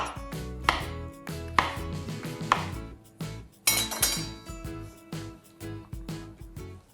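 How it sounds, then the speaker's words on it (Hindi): Raw mango being chopped on a board with a knife, a steady series of sharp, close, knocking cuts with irregular spacing, fairly quiet and alone. "ये जो बड़ी बड़ी जो होंगी ना अम्बियां, उसको आप कोशिश करना थोड़ा सा चॉप कर लेना।"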